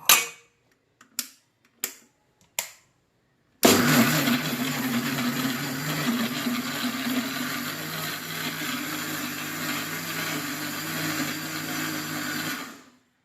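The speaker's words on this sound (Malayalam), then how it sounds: "ഇതെല്ലാം കൂടെ ഒന്ന് അരച്ചെടുക്കുക" Mixer grinder blending jackfruit pulp for batter: several sharp pulse clicks, then the motor whirs loud and steady for about nine seconds before cutting off, close up with no talking.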